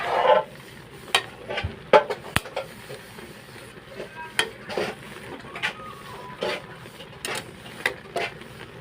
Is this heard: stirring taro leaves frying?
yes